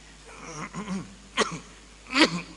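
Two short, sharp coughs from a Buddhist monk giving a talk break through a quiet room, preceded by some soft throaty murmuring.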